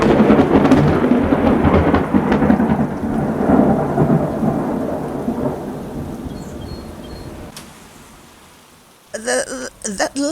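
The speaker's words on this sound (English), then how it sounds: "The thunder crashed louder and louder." A loud thunderstorm with heavy rain and rolling, crashing thunder that peaks early and slowly fades toward near silence, then a brief burst of sharp noise at the very end.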